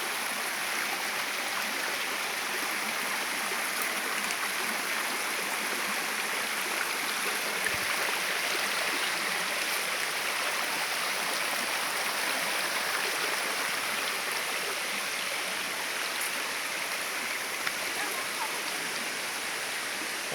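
Waterfall along a hiking trail, a loud, steady broadband rush of falling water that stays constant throughout with no speech over it.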